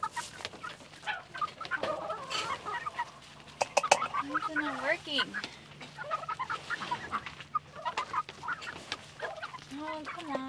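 Juvenile chickens about four to five months old cluck and chatter on a cold homestead, several birds calling in short, overlapping bursts at close to moderate distance, with a voice speaking at times.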